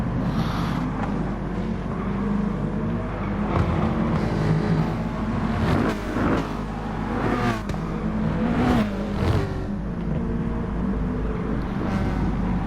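Racing car engines roar in a racing video game at the Interlagos circuit, a steady loud drone with several cars rising and falling in pitch as they rev and pass, without any talk over it.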